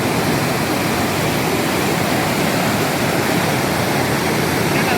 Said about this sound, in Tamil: கீழே ஒரு ஃபால்ஸ் இருக்குங்க.